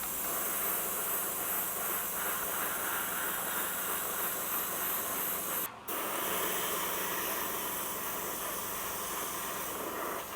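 Close, steady aerosol hiss fills the air as black paint is sprayed onto the cab roof of a vintage Davy Crockett model train, continuous for about ten seconds apart from one brief break.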